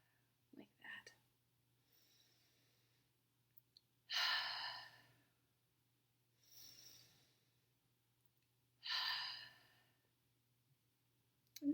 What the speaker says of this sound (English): Just take a few tension-relieving breaths.